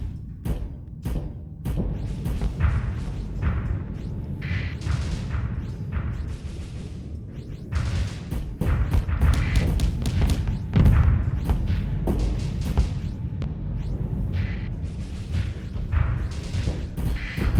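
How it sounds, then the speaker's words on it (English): Swarmer guided missiles in Starsector launch in repeated thumping bursts, a dense, layered barrage of low whooshes and thuds that keeps going steadily at close range for the whole stretch. "These are the swarmers. Fine, guided. These missiles, it's like rockets, bro."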